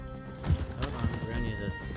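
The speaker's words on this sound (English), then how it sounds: "Oh, yes, the horse!" Horse hooves clip-clopping at speed in a video game, a rapid thudding rhythm with a whinny, mixed under excited talking voices.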